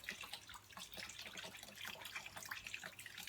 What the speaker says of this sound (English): I'm not turning water down.